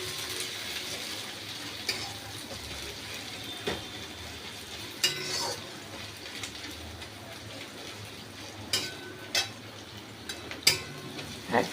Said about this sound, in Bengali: এটাকে ভালো করে কষাবো এবারে আমি।